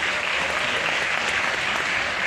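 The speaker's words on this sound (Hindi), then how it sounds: "एक बार जोरदार तालियां सर के लिए।" Loud, dense applause from an event audience welcoming the chief guest, a continuous roar of many hands clapping close by for a couple of seconds.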